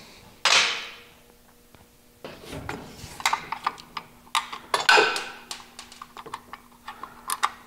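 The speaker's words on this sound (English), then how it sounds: "course I dropped a bolt." A metal bolt drops while motor mounts are being fitted on a 1951 Mercury, giving one sharp clatter followed by scattered small metallic clicks and taps of close hand work, no talking.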